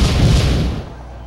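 A rigged treasure chest blows up in the Super Paper Mario video game: a single loud, booming explosion that fades over about a second.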